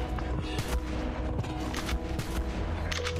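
Gunshots ring out in the video game ARK, sharp cracks fired in an uneven volley among rumbling mechanical game noise, close and fairly loud.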